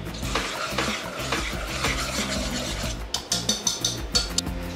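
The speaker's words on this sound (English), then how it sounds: "Then you're gonna mix the sugar and the butter together." Sugar being stirred into melted butter in a pot makes a steady gritty rasping scrape, with a few sharper clicks of the spoon against the pot toward the end.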